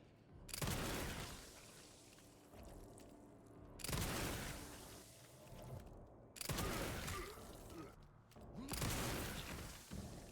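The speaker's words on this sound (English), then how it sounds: "I started blasting. Bang!" Gunfire blasts away at zombies in a video game's isolation ward, with several loud bursts of shots in clusters separated by brief lulls, each burst booming and crackling over a dense game soundscape.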